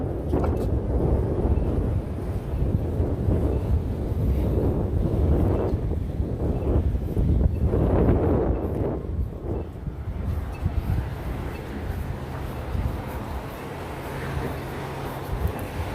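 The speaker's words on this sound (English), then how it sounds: "the wind is blowing hard" Strong wind on a city street at 22nd and Market in Philadelphia: a loud, constant roaring rumble of gusts buffeting the microphone for the whole stretch, with no talking.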